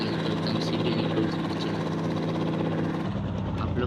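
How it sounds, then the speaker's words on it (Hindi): Helicopter in a video game hovering and setting down on a building rooftop, a steady whirring rotor and engine drone that runs loud and unbroken, then shifts slightly in tone near the end. "चलिए मैं जा रहा हूँ इस पर हेलीकॉप्टर बंद करके।"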